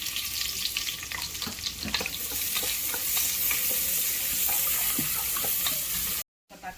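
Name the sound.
onions frying in butter in a pressure cooker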